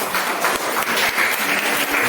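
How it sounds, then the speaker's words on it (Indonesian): Classroom applause for a student discussion group, a steady dense patter of many hands clapping together at moderate loudness, heard alone. "Tepuk tangan untuk kelompok 3"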